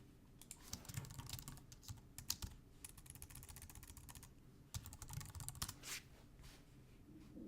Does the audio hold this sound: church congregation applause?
no